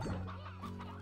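Bright hens in the video game Slime Rancher clucking softly in a short, low-pitched burst, close and fairly quiet.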